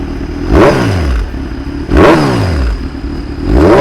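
A Kawasaki Z1000 motorcycle fitted with an SC Project exhaust is revved up close while standing, with three sharp throttle blips that roar up and fall back to a rough, burbling idle between them.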